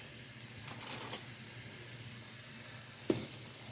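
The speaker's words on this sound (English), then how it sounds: "Got that butter heated up in the pan. We're going to lay these catfishes in here." Catfish laid red side down into heated butter in a pan, frying with a faint steady sizzle throughout and a brief sharper pop near the end.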